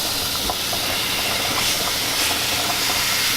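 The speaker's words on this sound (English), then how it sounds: "We're going to lay these guys in here and get them browned up nicely." Beaver meat browning in a pot, giving a loud, steady, close hiss of searing with no breaks and no talking.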